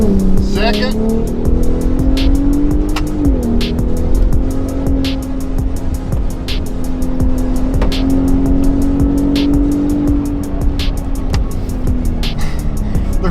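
A Ford Raptor driven hard in manual mode with paddle shifts, its engine droning loud and steady from inside the cabin with a gear change early on and a faint repeating clicking throughout.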